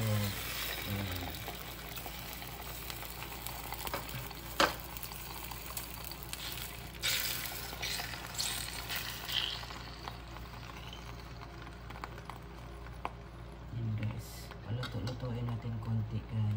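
An egg fries in a pan for a paratha breakfast, giving a faint, steady sizzle and crackle with occasional pops and small clinks over a low background.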